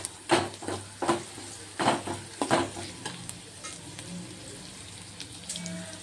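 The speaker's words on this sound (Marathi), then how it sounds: "सोबतच मिरची, कढीपत्ता छान परतवून घ्यायचा आहे। कांदा जास्त फ्राय करायचा नाही आहे" Onions, chillies and curry leaves frying in a pan for jhunka, with a steady soft sizzle under sharp spatula scrapes and stirring knocks that come close and thin out toward the end.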